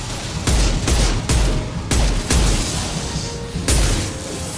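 Pistol gunfire in Mass Effect 2 Legendary Edition, about six loud, close shots fired at an uneven rhythm, each a sharp booming crack with a short decay and no voices between them.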